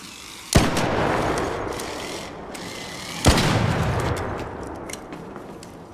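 Two loud gunshots in the shooter game Arc Raiders, about three seconds apart, each followed by a lingering mechanical rumble and clatter.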